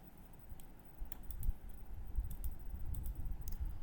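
Computer mouse clicking during 3D modeling work in Blender: a quiet scatter of sharp close clicks, some in quick pairs, over faint room hiss.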